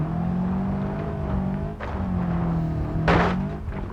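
In the BeamNG.drive driving sim, a car engine hums and revs while the vehicle struggles off-road against steps, with two sharp thumps standing out over the steady engine drone. Nobody talks.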